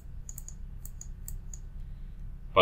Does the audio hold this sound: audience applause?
no